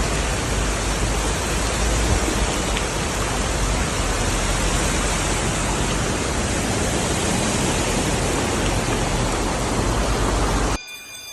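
Torrential black rainstorm pouring over Hong Kong, a dense, loud, unbroken roar of heavy rain that holds steady for about eleven seconds before cutting off abruptly, with no voices.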